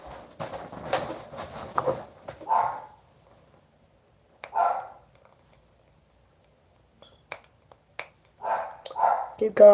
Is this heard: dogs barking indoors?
yes